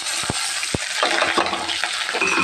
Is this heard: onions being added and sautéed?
yes